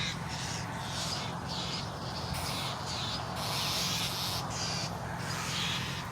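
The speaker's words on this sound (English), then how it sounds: "Yes, it's a crow." Repeated crow caws sound in short bursts at a steady rhythm, fairly quiet and a little distant, with a soft outdoor background and no voices.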